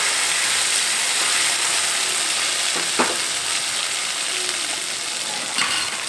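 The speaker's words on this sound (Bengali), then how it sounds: "এবার এর মধ্যেই বাটা মশলা অ্যাড করে দিলাম বাটা মশলা দিয়ে একটু নেড়ে চেড়ে নেবো" Ground spice paste frying in a pan for a rohu fish curry with papaya and potato: a loud, steady close sizzle with a couple of scraping stirs of a spatula against the pan.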